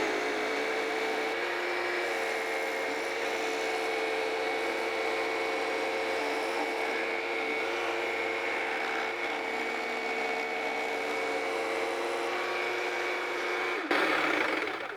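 A Blade Runner tabletop saw runs steadily while cutting wood, a loud, continuous whine and hum that stays constant throughout, with a brief shift in tone near the end.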